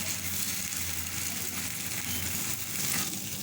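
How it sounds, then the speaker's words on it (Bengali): A beaten egg scrambles and fries in a hot pan beside pushed-aside vegetables for Mexican fried rice, giving a steady, close sizzling hiss with faint scraping throughout and no talking. "এখন আমি ভেজিটেবলগুলিকে এক সাইডে রেখে দিয়ে দিচ্ছি একটা ডিম। ঝুরি ঝুরি করে ভেজে নিতে হবে।"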